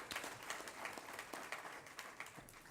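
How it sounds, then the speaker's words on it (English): Faint, scattered applause comes from the audience at a legislative listening session, honoring a speaker for her public service. The clapping is light and distant, with individual claps audible, and it stays fairly even throughout. "Can we give her a round of applause for a great job,"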